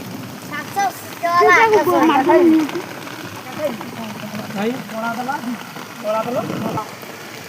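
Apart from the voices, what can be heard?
heavy rain falling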